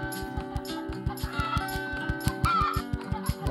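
Cartoonish chickens cluck in the idle game Egg, Inc., a steady stream of short, regularly spaced clucks layered over a bright looping tune, with no talking.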